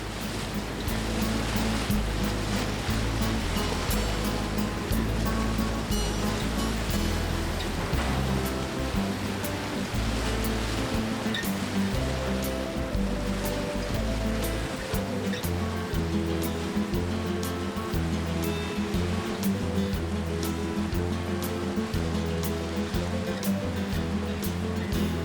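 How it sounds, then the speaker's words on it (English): Choppy sea heard from a boat heading toward Loch Tarbert off Jura, a continuous dense wash of waves and splashing water with engine rumble beneath, steady and loud throughout. "With their course set, they head off in choppy seas."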